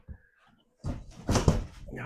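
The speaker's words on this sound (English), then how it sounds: "just knock all this out." Kitchen shiplap wall panels, in a lightly built mobile-home-style house, are knocked out during demolition: a faint knock, a short pause, then a cluster of loud thuds, bangs and rattling clatter close by.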